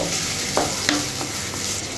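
Chopped onion lightly sautéing in a pan for cabbage Manchurian, a continuous soft sizzle with a few faint stirring scrapes, close and brief with no talk.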